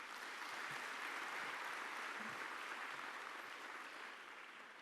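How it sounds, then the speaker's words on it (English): A large crowd claps hands at a formal football tournament draw ceremony, a continuous broad wash of applause that holds steady and then eases slightly near the end. "I'm going to ask that we clap hands for all of the people I've mentioned"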